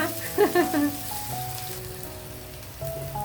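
Chopped onions sizzle in a pan for an egg fry, a steady close hiss with a few brief clatters of stirring near the start.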